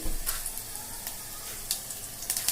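Fenugreek and mustard seeds sizzle and crackle in hot oil, a close hissing fry with a few sharp pops scattered through it and no talking.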